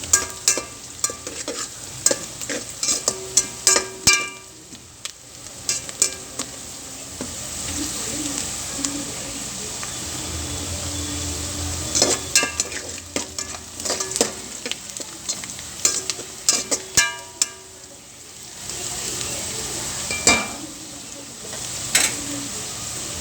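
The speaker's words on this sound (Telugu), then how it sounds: "ఇదిగోండి బ్యాటర్ అయితే ఇలా వేసేయాలి." Batter for a spicy pasta dish sizzles and fries in a pan while a utensil stirs it, scraping and clattering in irregular bursts over a constant loud frying hiss, with occasional speech.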